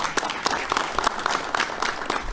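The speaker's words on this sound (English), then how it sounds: "let us all join in wishing him a very, very happy birthday with a big round of applause" A small gathering at a City of Savannah meeting claps for a birthday: scattered, separate hand claps in an uneven rhythm, moderately close, with no voices.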